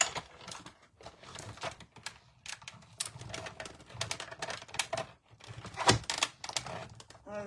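Layered cardstock with velvet being cranked through a manual embossing machine, a close, quiet series of irregular clicks, creaks and thunks as the rollers are worked under pressure.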